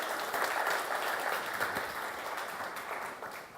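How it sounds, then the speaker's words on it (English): Brief applause from a conference audience at a DevOps tech talk, a moderate even wash of clapping heard from a distance, without any speech. "You can clap."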